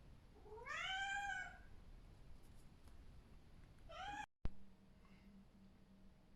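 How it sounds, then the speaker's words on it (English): A house cat meows for attention indoors, one long rising meow and then a shorter second one, faint and close, followed by a click and quiet room hum. "My cat just decided she needed attention."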